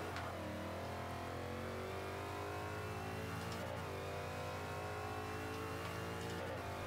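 A Saleen S7 race car in Forza 5 holds a loud, sustained engine note that climbs and shifts steadily through revs, with brief dips as gears change, heard without voices.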